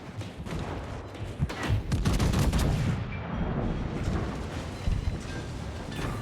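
Heavy naval guns boom in a warship battle game aboard the battleship Kongo, dense rolling blasts and rumbling explosions overlapping through the stretch with no pause.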